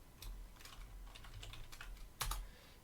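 Keystrokes on a computer keyboard while a search term is typed: a sparse, quiet run of light taps with a sharper double click near the end, with no talking.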